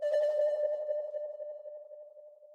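A single sustained synth D note with delay echoes that ring on and gradually fade, heard alone with no talking.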